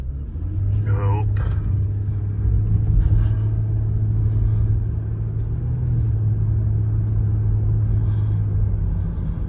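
A Lexus ES350 with a transmission that is not shifting correctly drives along, its low steady engine and road rumble droning throughout, with a short voice-like warble near the start.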